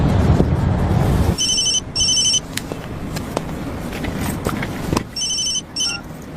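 An electronic telephone newly installed by the phone company rings in bursts, two quick double-rings near the start and another pair later, loud and close over a steady background din.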